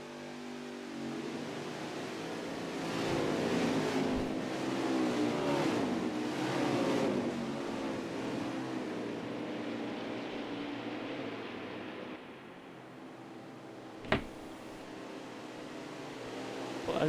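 Race cars in a virtual racing championship game at Road America, heard as a pack of engines revving and droning past at mid distance, swelling and fading, with one sharp click near the end and no talking.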